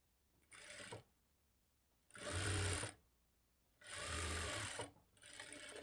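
A sewing machine stitches the back frill of a blouse in three short bursts of rapid whirring with quiet pauses between them, close and fairly loud.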